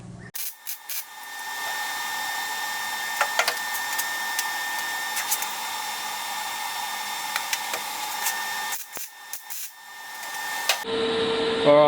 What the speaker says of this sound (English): Get the welder out. Give it a little bzz, bzz, bit of heat